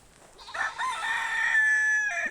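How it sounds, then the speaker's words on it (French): A rooster crows once, a loud, drawn-out cock-a-doodle-doo from close by, with no talking. "En coq on a donc les 2 mâles reproducteurs là."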